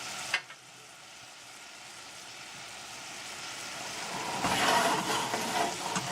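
Turmeric, coriander, salt and chili powder sizzle in a pot while being stirred, a soft steady hiss that grows louder and brighter toward the end, with a faint knock at the start and no talk.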